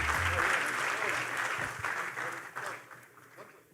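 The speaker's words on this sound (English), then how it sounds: "Please, another round of applause for them" Audience applause for a panel at an African emerging markets forum, a broad sustained wash of clapping that starts full and gradually thins and fades over the final second.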